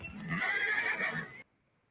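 A horse gives one long, loud whinny that lasts more than a second and then cuts off abruptly into near silence.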